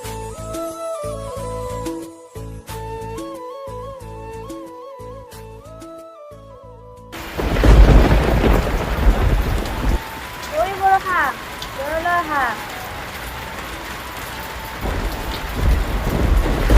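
A thunderstorm breaks in after a stretch of quiet music: a dense, loud downpour of rain on surfaces with low rumbling, while brief voices and calls rise faintly through the rain.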